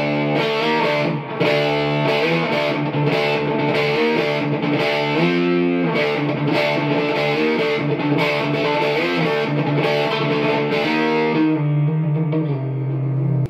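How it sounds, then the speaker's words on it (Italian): Heavily distorted electric guitar played through a tube amplifier, dense sustained chords with thick harmonics and some effects wash, loud and continuous for most of the passage before a final ringing note fades out. "forse è un po' troppo di distorsione, forse, ho esagerato un pochino"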